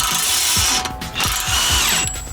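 A 15mm socket on a ratchet backs a toe link bolt out of a car's suspension, the pawl clicking in quick, loud bursts of rapid ticks, close by and with no talking.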